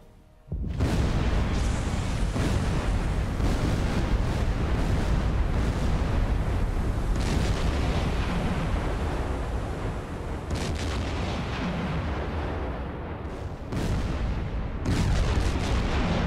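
Torpedo launched from tube 6 of the USS Plunger submarine in Silent Hunter 4, a loud, sustained rumbling burst that roars continuously for many seconds with surging swells and no speech.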